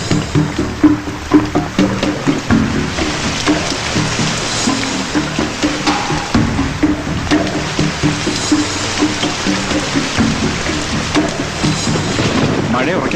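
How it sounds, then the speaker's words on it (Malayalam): Heavy rain pours down steadily with a loud, rushing hiss, joined by rumbles of thunder, while a rhythmic series of soft thuds repeats through the downpour. "മഴ ഉറയ്ക്കുന്ന ലക്ഷണം."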